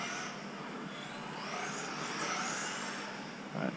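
A stock Tamiya TT02 RC car with carpet tires races on an indoor carpet track, its electric motor giving a steady, fairly faint high whine that rises and falls through corners, with a brief thump at the end.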